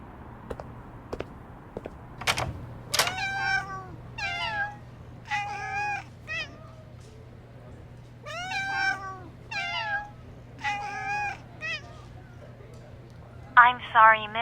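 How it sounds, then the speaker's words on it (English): Cats meowing inside a late-night cat cafe in the video game Love and Deepspace, a series of clear, close meows, some drawn out and some short, repeating every second or two over a faint steady hum. "the constant meowing creeped me out"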